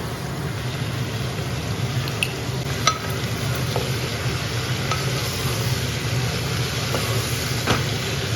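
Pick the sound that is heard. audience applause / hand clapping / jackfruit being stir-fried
jackfruit being stir-fried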